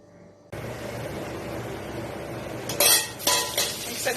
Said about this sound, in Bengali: শুকনো লঙ্কাটা দেওয়া হয়ে গেছে, এবার এর মধ্যে গোটা জিরে, এলাচ, ছোট এলাচ আর দারচিনিটা দিয়ে একটু ভাজা ভাজা হতে দেব।